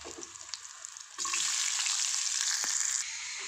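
Onions frying in oil with curry leaves and green chilies give a steady, loud sizzle that jumps louder as they hit the pan, with a brief stir sound partway through and no talking.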